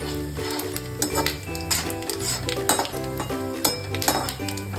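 A utensil stirs a coriander and onion mixture in a cooking pan for samosa filling. Repeated metallic scrapes and clinks sound close and moderately loud, in an uneven rhythm over a faint background sizzle.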